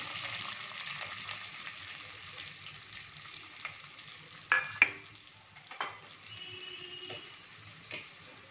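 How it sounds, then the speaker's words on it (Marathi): Onion frying in hot oil in a cooking pot, with a steady close sizzle, a few sharp clinks and stirring knocks partway through, and no talking. "तेल टाकले मी पातेल्यामध्ये। सगळ्यात आधी घालायचे कांदा"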